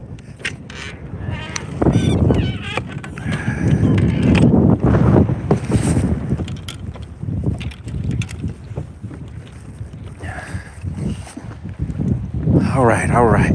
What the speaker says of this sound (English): maybe you guys can hear that wind